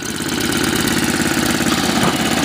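An MTD snowblower's small engine idling steadily at low speed, a close, continuous, slightly knocking rumble with no speech.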